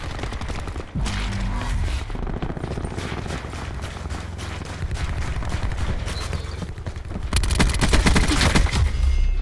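Peacekeeper gunfire in Black Ops 4, with bursts of rapid automatic shots over a busy multiplayer match, a heavy impact near the start and a louder, denser volley toward the end.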